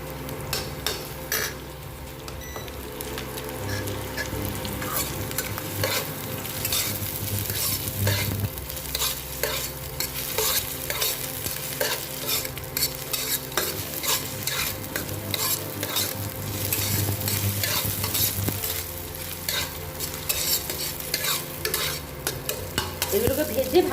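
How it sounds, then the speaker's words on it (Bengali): Whole cumin seeds and garlic frying in hot oil for garlic bharta, a steady busy sizzle with frequent spoon scrapes and stirring against the pan, close and continuous, with no talking. "একটু জিরে ফোড়ন দিয়ে দিলাম"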